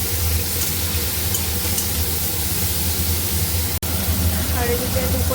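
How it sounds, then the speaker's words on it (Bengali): Paneer fries in white oil with an even, close, hissing sizzle that runs throughout, broken only by a single brief dropout near the end. "এদিকে এটাকে এখন ভালো করে সাদা তেলে ফ্রাই করে নিই"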